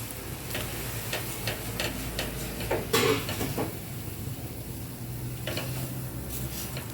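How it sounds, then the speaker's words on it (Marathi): Semolina roasting in a pan while being stirred, quiet scraping and light ticking of the spoon with one louder clatter midway, over a soft background hiss. "आता मम्मी रवा मस्त भाजून घेणार आहे"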